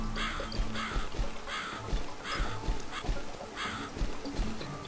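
A crow caws repeatedly in The Cat Lady video game, harsh calls coming in regular bursts about every second over a low droning game ambience.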